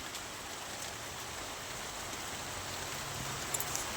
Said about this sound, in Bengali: শুনতে পাচ্ছ বৃষ্টির আওয়াজটা তোমরা?